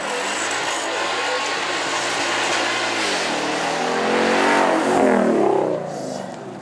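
A Ford Mustang at a supercar event revs hard, its engine note rising in pitch and loudness to a roaring peak before easing back, loud and close throughout.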